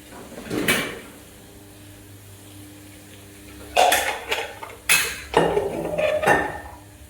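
A steel pressure cooker and pots are picked up and set down in a home kitchen while preparing a cluster bean and potato curry, giving a few sharp metallic clanks and clatters after a quiet stretch.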